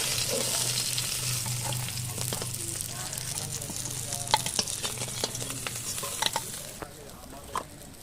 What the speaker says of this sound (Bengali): মাছ ভাজা হয়ে গেছে, নামিয়ে নেই।